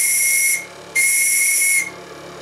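Steam whistle of the tugboat Tenace's Microcosm M2B model engine, sounding two shrill, hissing blasts close up, the first about half a second and the second nearly a second long, separated by a short pause.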